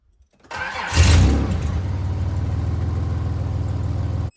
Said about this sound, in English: Make sure it cranks up and runs.